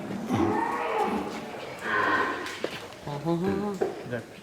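A Holstein Friesian dairy cow on a large cattle farm in Cumilla moos several times, loud and close, with drawn-out calls and farm voices talking in the background.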